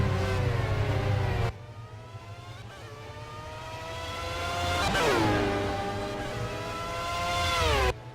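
Mazda 787 race car engines drone and whine in a racing video game, a continuous high-pitched rotary howl with rising and falling pitch as cars pass, loud and alone with no talking.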